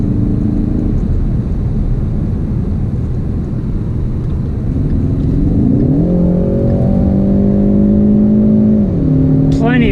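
A Ford Mustang EcoBoost Premium accelerating from the driver's seat, a steady engine drone that rises in pitch around the middle and holds there as the car gathers speed, with road rumble underneath throughout.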